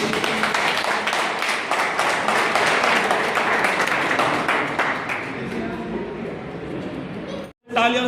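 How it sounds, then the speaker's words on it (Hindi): An audience at a public gathering breaks into sustained clapping, a dense patter of many hands that fades gradually toward the end before cutting off, with a voice speaking over part of it. "तालियों से गड़गड़ा के साथ"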